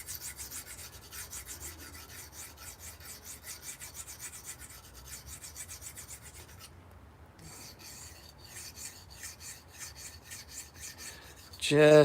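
A blade is ground on a coarse grit sharpening stone with steady rhythmic rasping strokes, close and moderately loud. The strokes pause briefly midway, then resume, ending in a sharp louder knock.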